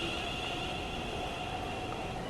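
A train rolls past at a station in Train Sim World 5, a steady, faint rumble with a hum on top, heard alone without any voices.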